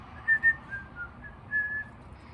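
A person whistles a short, lilting tune while planting seeds on a windowsill, a few clear, soft notes in a quiet room.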